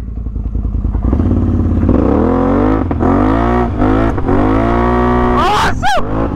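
A tuned Can-Am Outlander ATV engine revs hard through a wheelie in high gear, a loud, close roar that climbs and surges, with clattering knocks and a sharp thump near the end.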